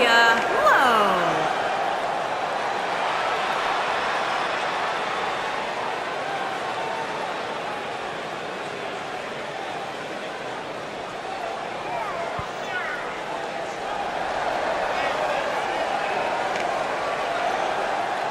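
Arena crowd in the WWE 2K19 wrestling video game, a steady wash of cheering and whooping that holds at moderate level throughout, with no talk over it.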